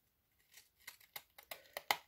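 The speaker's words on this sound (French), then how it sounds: "Maintenant, avec des ciseaux cranteurs," Pinking shears cutting paper for a pop-up birthday card, a series of about seven crisp snips in an irregular rhythm, close and fairly quiet with no talk.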